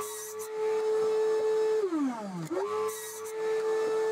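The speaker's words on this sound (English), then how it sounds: "Then we cut the side pieces for the frame." A power saw cuts plywood side pieces for a workbench frame, giving a steady close whine that dips in pitch as the blade bites into the wood, then recovers to its running tone.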